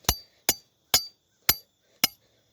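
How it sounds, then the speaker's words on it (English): A hammer strikes a crowbar to drive it into the ground while a dirt bike jump is being built. Five sharp, ringing metal clanks land at an even, unhurried pace, close and loud, with no talk. "and then just start hammering"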